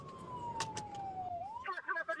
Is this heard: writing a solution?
no